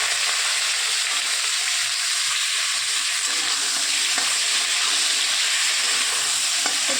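Potatoes and beans frying in oil in a wok for a spinach curry, giving a continuous loud hiss and sizzle with a few faint scraping knocks near the end and no talking.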